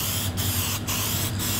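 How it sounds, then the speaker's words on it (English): Aerosol can of Helma Crystal Coat matte varnish spraying in a steady continuous hiss, broken by three short gaps between bursts, close and fairly loud with no talking. "it's just an aerosol. Give it a good shake and a few nice semi-wet coats will seal it all in."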